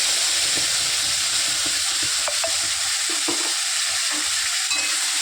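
Spice masala sizzles in a little oil in a pan after dried red chillies, for prawn malai curry, with a steady close frying hiss and light intermittent stirring and scraping, no voices.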